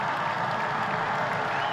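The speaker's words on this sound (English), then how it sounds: "The crowd is getting into it." A crowd at a high school football game cheers and applauds around kickoff, a dense, even wash of clapping and crowd noise that stays steady for the whole moment.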